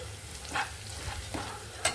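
Taro pieces frying in a pan, a steady low sizzle broken by a few scraping stirs and a sharp clink at the end, heard up close.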